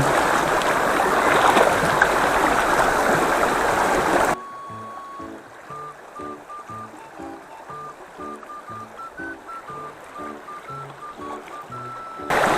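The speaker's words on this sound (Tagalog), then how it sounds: "Pakita ko sa inyo yung ilog dito." A swollen river rushes steadily in Lobo, Batangas, as a loud broadband flow for about four seconds, then cuts abruptly to a quiet melodic tune of plucked notes.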